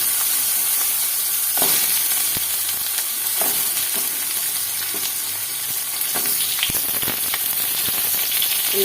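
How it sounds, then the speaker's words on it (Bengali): Eggplant and potato pieces fry in hot oil in the same pan just used for fish, giving a loud, steady sizzle with occasional spatters and stirring clinks throughout. "ওই একই তেলের ভিতর আমি বেগুন আলুগুলোকে বেঁধে নেব"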